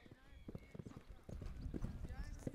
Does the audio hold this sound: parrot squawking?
no